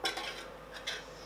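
Spoon stirring a fennel and black lentil salad in a bowl, a few soft, close scraping clinks spread over about a second, quiet and with no talking.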